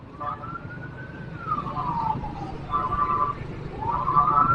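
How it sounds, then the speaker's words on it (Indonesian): An ambulance siren wails from a distance behind a moving vehicle on a Surabaya road, rising and falling in long sweeps over steady road noise. "di belakang kita ada ambulan"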